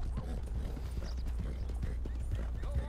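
Horse hooves clip-clop steadily in the video game Red Dead Online, close and fairly quiet over a low rumble, with a brief faint whinny near the end.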